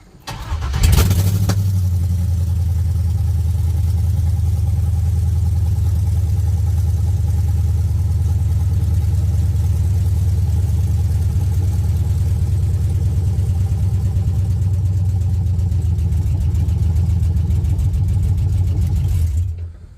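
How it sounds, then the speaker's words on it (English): A Chevrolet C10 with a swapped 5.3 LS V8 cranks and fires, revs up briefly, then settles into a steady, loud, close idle that runs evenly for the rest of the clip with no talking. "she is running on her own. You see she goes up and idles right back down."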